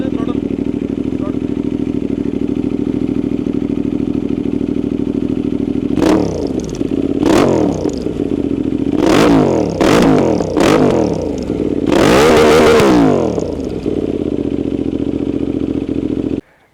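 A modded Benelli 752S motorcycle idles with a deep, steady burble, then is revved in a series of sharp, loud throttle blips. A long final surge is followed by a sudden cutoff.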